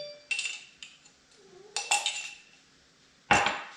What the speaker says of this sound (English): we're just going to give that a little whisk there